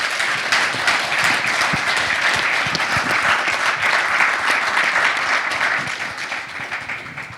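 An audience applauds panellists at the close of an evening climate talks event, with steady, dense clapping that fills the room throughout and fades slightly at the end.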